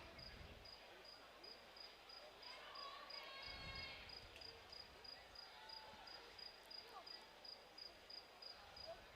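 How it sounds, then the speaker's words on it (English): Crickets chirp in a steady, faint pulsing rhythm inside an athletics stadium at a European U18 championships women's medley relay final, under low crowd chatter and ambient noise. "the sound of cricket insects as well"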